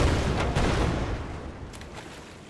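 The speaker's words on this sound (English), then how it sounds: "which fires off a constant stream of cannonballs or whatever projectile at the enemy" Ship cannons in the naval video game Brigport Dagger fire a rapid stream of cannonballs, heard as dense overlapping booms and rumbling blasts that stay loud throughout and fade slightly toward the end.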